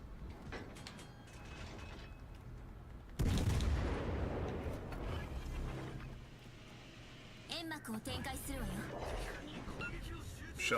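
A heavy naval shell impact from World of Warships: Legends booms in loud and close, with a boom and rumbling mechanical clatter amid ongoing game noise and spoken commentary.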